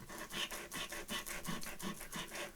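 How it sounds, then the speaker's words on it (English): Rhythmic rasping scrapes of a sanding disc on inked craft paper, about a dozen back-and-forth strokes in quick succession, close and fairly quiet. "I'm going to take my sanding disc again and get rid of this uniformity of the brown"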